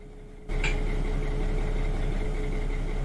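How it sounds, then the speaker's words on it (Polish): In a train simulator game, after a brief quiet moment, the starting resistor fans of an SU45/SU46 diesel locomotive kick in with a steady mechanical whir that holds, with a constant hum beneath it. "To są właśnie wentylatory oporów rozruchowych."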